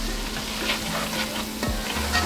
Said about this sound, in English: I'm gonna let my chili continue to cook up here for a few more minutes